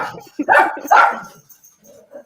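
A pet dog barks in short, excited bursts close to the microphone, with loud yelps clustered in the first second and fainter whimpers trailing off, during a video call.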